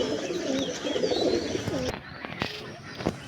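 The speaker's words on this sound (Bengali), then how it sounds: "দেখো আর এক জোড়া পায়রা দেখাচ্ছি।" A pair of Punjabi pigeons coo at home in a close, continuous low murmur, with some handling noise partway through.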